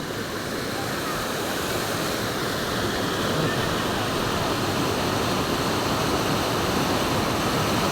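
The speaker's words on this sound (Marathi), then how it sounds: "हा नदीचा खळखळाट बघा किती छान आहे" River water rushes and babbles in a loud, constant broadband roar, close by and unbroken throughout, with no speech heard over it.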